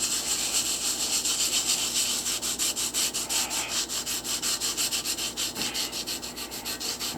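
A sponge scrubs hard fossil rock from Lebanon in steady back-and-forth strokes, a close, loud, rhythmic rasping that carries on without pause.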